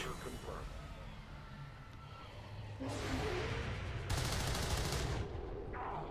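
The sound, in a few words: gunfire in the video game XCOM 2 War of the Chosen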